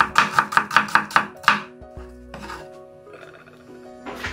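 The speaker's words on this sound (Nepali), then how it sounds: "यसलाई यसरी लामो लामो गरेर स्लाइस गर्न होला" Half an onion sliced lengthwise on a cutting board, heard as a quick run of about eight sharp, evenly spaced knife chops up close, followed by quieter handling noises and a final knock.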